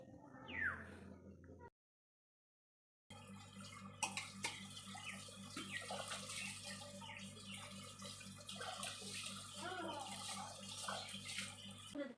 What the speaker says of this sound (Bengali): আর সঙ্গে এই পিঁড়িগুলো ধুয়ে দিচ্ছি